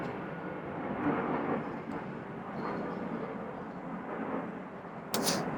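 A second airplane flies overhead above a rural cornfield, a soft, steady distant rumble that swells and fades gently, with a brief sharp click near the end.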